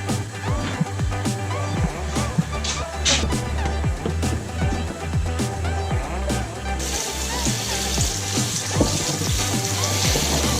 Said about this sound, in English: please drain it over at the sink and run it under cold water